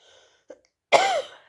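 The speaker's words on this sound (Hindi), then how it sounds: "जुकाम खांसी लगी बहुत" A single harsh cough or throat-clearing burst, close and abrupt, follows a second of near silence broken by a tiny faint click.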